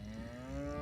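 Cattle on a farm give a single long, sustained moo, steady and fairly close, with no other sounds or talk.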